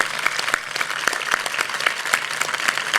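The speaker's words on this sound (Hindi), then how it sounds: "एक बार सभी लोग, आप सबके लिए तालियां।" An audience at a Maha Shivaratri celebration applauds after a dance performance, with dense, steady clapping and sharp individual claps standing out, sustained and fairly close throughout.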